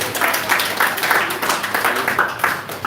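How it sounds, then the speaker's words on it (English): Audience applause at a Hare Krishna Namahatta gathering in La Mercy, steady scattered clapping from a small crowd, fairly loud and close, holding throughout. "Let's give him a round of applause."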